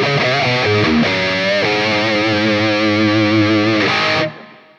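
A heavily distorted electric guitar through a Line 6 Helix modeler holds thick, sustained chords with a slight wobble, loud and continuous before cutting off and fading.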